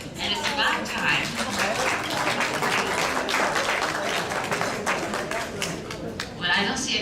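Sustained audience applause at a women's conference, dense clapping that swells and holds steady for several seconds with crowd noise and voices mixed beneath.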